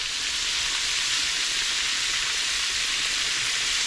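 Catfish pieces deep-frying Southern style in oil held around 355 to 360 degrees, a steady, dense, close sizzle and crackle that holds even throughout with no voices.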